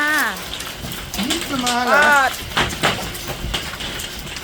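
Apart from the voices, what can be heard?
hailstones falling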